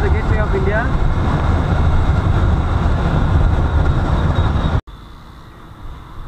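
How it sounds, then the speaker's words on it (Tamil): A Mumbai monorail train passes overhead on its elevated track, making a loud, steady, continuous rumble that stops abruptly, after which quieter background noise continues. "this seems to be the Mumbai monorail"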